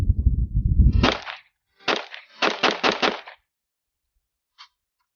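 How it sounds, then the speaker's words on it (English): AR-15 rifle with a nickel boron-coated bolt carrier group firing about five rounds outdoors, sharp loud cracks in an uneven quick string after a low rumble, then a faint small click. "Just shot 5, 6 rounds through it"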